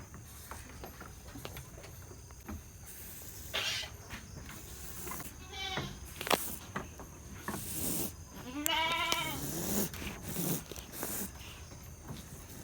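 Several Etawa goats bleat nearby, including a pregnant doe close to giving birth, with wavering cries rising over a low background hum and scattered small rustles.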